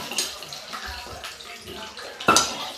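Hot oil with water in a bowl sputters and crackles for a moment, a brief sharp spitting burst near the end amid softer kitchen clatter.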